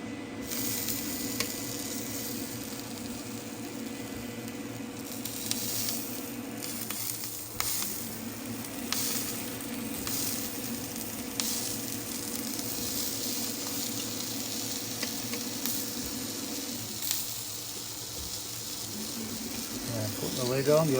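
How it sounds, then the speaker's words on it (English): Sausages sizzling on a hot grill under a closed lid, a steady continuous hiss with light crackle running the whole time at moderate level, with a faint voice in the background. "Put the lid on, you'll hear it sizzle."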